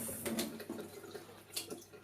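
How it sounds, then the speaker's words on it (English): Warm tap water runs steadily while film is rinsed after a stop bath, with soft splashing and a few louder surges, close and alone without talk. "rinse it quite a few times with warm water"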